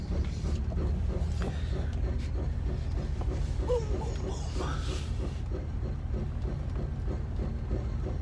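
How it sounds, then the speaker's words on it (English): A low, steady engine drone with continuous rattling from old, loose catalytic converters in an 80 Series Land Cruiser's exhaust, heard from inside while driving, with no talking. "The sound you're hearing right now is actually the exhaust"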